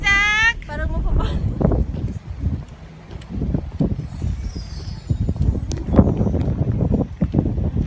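Strong wind blasts steadily into the microphone outdoors, a rough continuous roar with gusts rising and falling, while someone talks over it.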